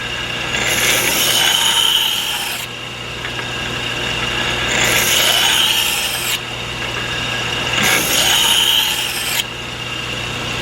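Harsh abrasive grinding of a steel knife blade's bevel comes in three long passes, each a loud gritty rasp of about two seconds separated by short pauses, with a steady motor hum running underneath.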